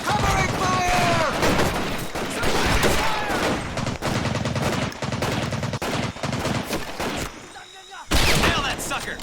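Dense, sustained gunfire from rifles and machine guns in the World War II Pacific shooter Medal of Honor: Pacific Assault, loud bursts and rapid volleys running almost nonstop, with a brief lull near the end before shooting resumes, soldiers shouting over it.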